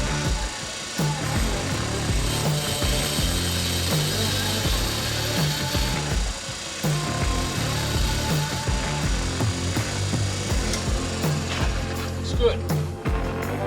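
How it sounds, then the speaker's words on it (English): A valve grinder wheel is faced off with a small diamond-tipped cutter during a valve job, producing a steady mechanical grinding hum with scraping bursts, close and continuous, while someone talks over it. "I've got this little diamond tipped cutter here, and we're just going to face off the front of the wheel"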